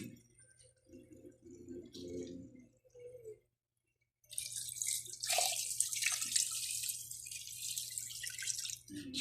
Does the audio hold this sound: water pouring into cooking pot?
yes